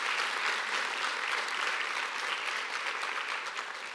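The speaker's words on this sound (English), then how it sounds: "Can you give them a round of applause," A symposium audience claps in steady, dense applause that holds evenly for about four seconds, then tapers slightly toward the end, with no voices over it.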